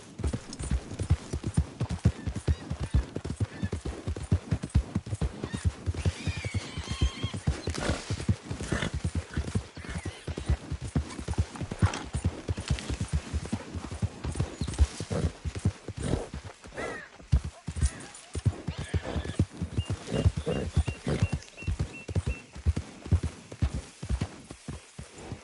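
A horse gallops in Red Dead Redemption 2, its hooves clip-clopping in a steady, continuous rhythm for a long stretch, with occasional brief snorts and background game sounds.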